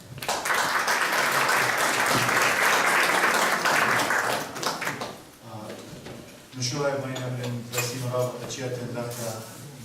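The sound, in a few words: audience applause welcoming speaker Michael Youash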